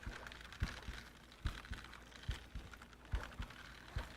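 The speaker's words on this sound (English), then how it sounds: "We got the heartbeat, so it's a new fish." A soft, steady heartbeat throb in the Disney Dreamlight Valley game signals a new fish, thumping evenly about every 0.8 seconds, faint and close with no voices.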